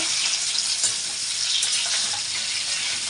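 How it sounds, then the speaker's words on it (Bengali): Pieces of pointed gourd fry in hot oil, giving a loud, steady, close sizzle that goes on without pause and with no voices over it. "আগে ভেজে নিন ভেজে তুলে নেব হলুদ দেবো না"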